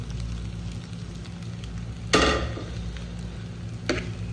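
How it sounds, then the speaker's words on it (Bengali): Cabbage is stirred in a frying pan over a steady background hiss of sizzling, with one loud scraping stir partway through and a shorter one near the end. "এখন একটু নাড়বো।"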